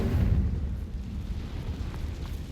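A Confringo explosion spell blast in the video game Hogwarts Legacy, heard as a faint, low, rumbling boom that fades into a dull roar.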